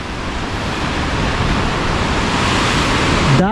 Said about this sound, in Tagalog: Wow, dagat.